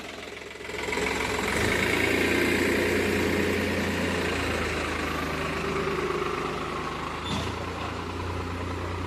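A tractor engine rumbles steadily and close, a loud diesel drone with a low knocking throb that holds throughout.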